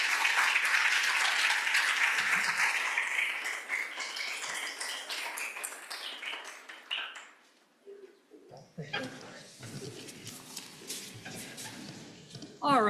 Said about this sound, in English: One more round of applause for Janelle.